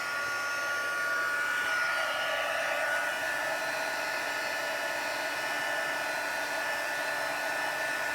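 A heat tool blows steadily over a card-making project, giving a continuous whirring hiss with a faint high whine at an even level throughout; no speech.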